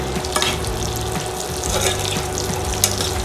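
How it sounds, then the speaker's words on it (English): Mushrooms frying in a hot pan with butter and nuts, a steady loud sizzle with stirring and scraping clatter throughout, no voices. "the mushrooms are getting a nice little toast on them"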